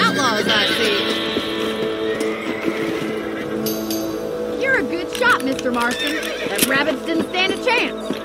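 In the Red Dead Redemption video game, horses neigh and whinny with clip-clopping hooves, loud and close, while a voice talks over the game sound.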